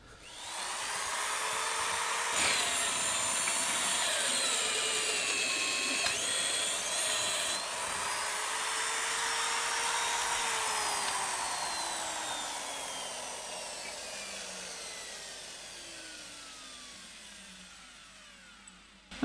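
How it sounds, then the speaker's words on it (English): A drill grinds steadily through the metal chassis of a Keritech DD-12 amplifier, enlarging a hole to 32 mm, its whine rising and falling in pitch over about twenty seconds of continuous close cutting with no voices. "I will enlarge this hole to 32. The maximum diameter that this drill allows."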